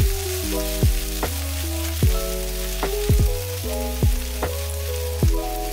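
Strained guajillo chili sauce hits cooking chicken in a pan, giving a steady sizzle broken by repeated sharp popping bursts, close and fairly loud with no talking.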